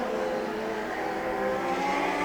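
Legend race cars roaring around a track during a heat race, a dense steady engine drone with layered revving tones and sustained loud mechanical noise throughout.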